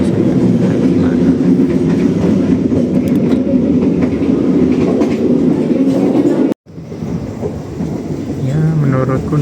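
Steady, loud rumble of an Indonesian New Generation passenger train rolling along the rails, heard from inside a dining car, with a brief dropout and a faint voice near the end.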